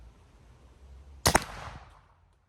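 A gunshot hits an explosive target outdoors on private land, one sharp loud crack with a short echoing boom that fades over about a second, after a quiet lead-in.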